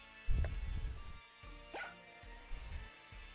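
A pet dog barks a few times indoors, with short yips and woofs spaced across a few seconds, at moderate volume and fairly close.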